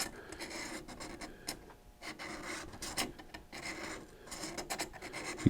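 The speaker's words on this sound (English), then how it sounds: "when you're filing down the bottom of the sight, you want to do it just completely flat" A hand file works across the bottom of a metal pistol sight for a Bodyguard 380, giving irregular rasping scrapes in short strokes, close and fairly quiet, with no talking.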